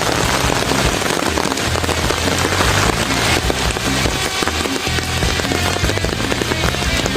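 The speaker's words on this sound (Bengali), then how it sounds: "প্রচুর বৃষ্টি হচ্ছে বন্ধুরা, দেখতেই পাচ্ছ" Heavy rain pours down outdoors in a steady, dense hiss with continuous pattering across the whole stretch, loud and close with no speech over it.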